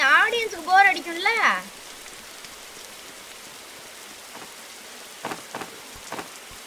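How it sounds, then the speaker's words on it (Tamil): Steady rain in the survival video game 99 Nights falls as a continuous soft hiss with a few faint taps. A voice talks over it briefly at the start. "என்ன தலைவாது மழை நின்றுச்சுன்னா நல்லா இருக்கும்."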